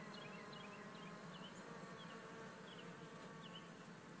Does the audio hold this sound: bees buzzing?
yes